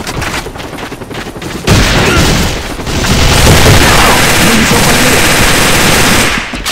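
Loud bursts of rapid gunfire and booms in a shooter video game, dense and continuous after a brief quieter opening, likely including a grenade blast among the shots.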